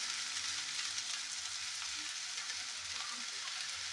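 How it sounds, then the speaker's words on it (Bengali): Soybean chunks and finely chopped potatoes fry in a pan, giving a steady, even sizzle with faint crackles that runs unbroken and close throughout. "তো জাস্ট এটা এবারে আমি একটু ফ্রাই করছি।"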